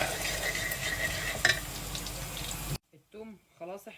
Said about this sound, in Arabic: والتومه يا دوبك تتحمر كده تحميره خفيفه